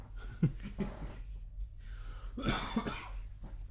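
A few close coughs and throat-clearing sounds, with breathy gaps between them and a steady low hum underneath.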